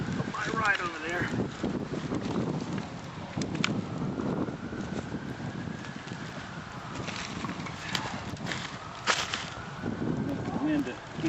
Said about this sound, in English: the wind looks like it's coming from my right over there